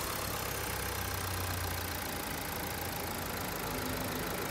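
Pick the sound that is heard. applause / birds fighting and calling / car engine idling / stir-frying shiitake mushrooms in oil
car engine idling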